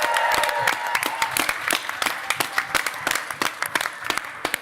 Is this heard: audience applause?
yes